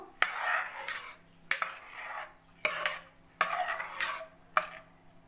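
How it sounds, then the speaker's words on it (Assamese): Jeera rice in an open pressure cooker, stirred with a spoon after water and salt go in: sharp metallic clinks against the pot at roughly one-second intervals, each trailed by a brief scraping rustle, close and clear. "এতিয়া অলপ লৰাই ল'ব"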